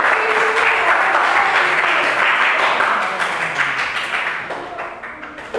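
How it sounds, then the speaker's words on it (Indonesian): A classroom of students claps together, loud at first and then gradually thinning out and fading toward the end. "Kasih tepuk tangan."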